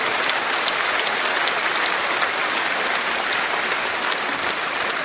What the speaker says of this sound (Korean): 우리 다 함께 우리의 기도를 들으시는 하나님께 영광의 박수를 올려드리겠습니다